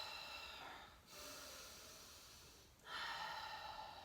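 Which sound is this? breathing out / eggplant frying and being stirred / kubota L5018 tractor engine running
breathing out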